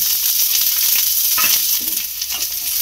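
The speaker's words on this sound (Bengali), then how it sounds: "এবারে এই তেলের মধ্যে দিয়ে দেব একটা কুচিয়ে রাখা পেঁয়াজ" Chopped onion dropped into hot oil sizzles and fries with a loud, steady crackle that fills the whole stretch, with no talking.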